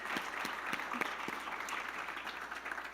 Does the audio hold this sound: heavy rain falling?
no